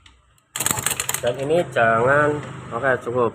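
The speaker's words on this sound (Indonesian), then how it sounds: "suaranya itu kasar, hampir sama suaranya seperti kruk as yang kena" A Yamaha motorcycle engine with a damaged timing chain, kick-started and running rough, with a fast, rattling mechanical ticking that starts abruptly and continues steadily beneath a man's close speech.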